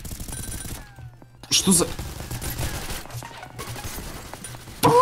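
A rapid-fire pistol in the Roblox game Ragdoll Universe shoots in dense bursts of gunfire, loud and close, filling the middle seconds and returning sharply at the end, with a voice briefly exclaiming.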